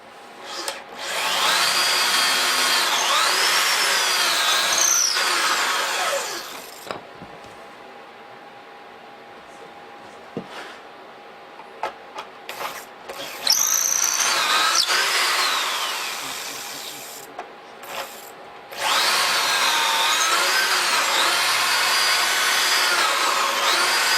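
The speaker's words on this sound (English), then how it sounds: "Put a little glue on here, screw into the bottom." A power drill drives screws through a pocket-hole jig into the bottom of a maple desk, with three long bursts of high, steady motor whine separated by quieter handling noises.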